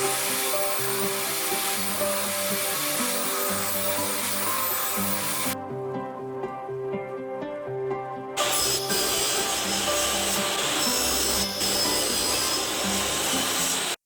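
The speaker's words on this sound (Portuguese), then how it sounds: "até para eu não me aproximar muito da serra. Então agora eu vou fazer esses dois cortes" A power saw makes two cuts into wood, each pass a steady loud buzzing grind with a short quiet break between them, close and continuous with no talking.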